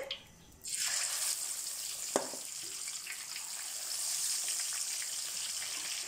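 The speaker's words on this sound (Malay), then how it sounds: "Sekarang saya nak gorengkan ikan ya." After a brief quiet moment, a loud hissing sizzle erupts and continues steadily, like fish frying in hot oil, with a faint clink near the start.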